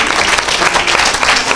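Loud, dense applause from a church audience acclaiming Jesus, steady clapping throughout a brief burst with no voices standing out.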